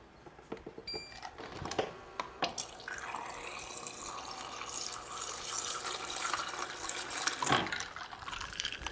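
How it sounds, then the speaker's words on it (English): Water poured from a tap into a regular cup already holding ice, a steady close splashing rush lasting several seconds with a few sharp clicks at the start and a brief surge near the end, fairly quiet overall. "And then put some water in."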